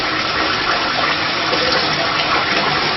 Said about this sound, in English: Cold water coming in.